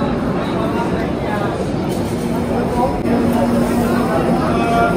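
Train noise at Kanpur railway station, a steady low rumble and hum of rail cars beside the platform, fairly loud and continuous, with a faint tonal whine partway through.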